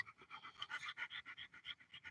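A pet dog named Dakota pants in quick, rhythmic breaths at close range while playing with her puppy at home, the steady huffing pulses coming one after another without a break.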